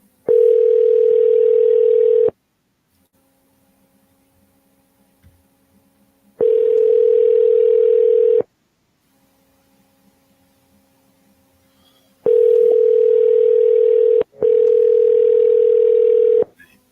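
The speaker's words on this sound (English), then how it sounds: "Hopefully y'all can hear this phone ringing on this other thing here." An outgoing telephone call rings back with four long, even tones, each about two seconds. The first three are spaced by long gaps, and the last two come almost back to back. The tones are loud and clear over near silence.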